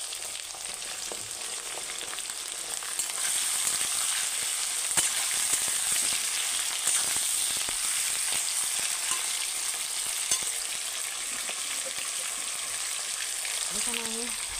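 Meat sizzles in a pan of oil with cardamom, cinnamon, bay leaf and dried chili, making a steady, fairly loud hiss with faint scraping throughout and a brief tonal sound near the end.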